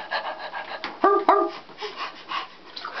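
A child imitates a dog, giving two quick close barking yelps in the middle of a short pause with faint background sound around them.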